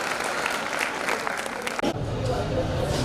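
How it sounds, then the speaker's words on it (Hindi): Audience at a ceremony honouring municipal sanitation workers in Udaipur, clapping in a dense continuous burst of applause that carries on throughout, with a voice over a loudspeaker speaking through it. "तालियों के साथ इनका स्वागत करें, इन खिलाड़ियों का और सभी मंचासीन का।"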